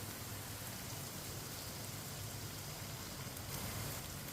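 Three eggs sizzling in a hot pan with spiced onion sabzi over a raised flame, a steady dense crackling hiss that stays loud and even throughout, with no talking.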